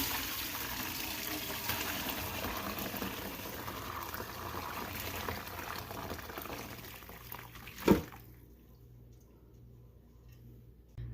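Turkey broth poured through a sieve makes a steady rush and trickle of liquid for several seconds, then a sharp clank of metal, after which only a faint dripping remains.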